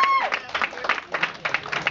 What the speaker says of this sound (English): Give a big round of applause for helping me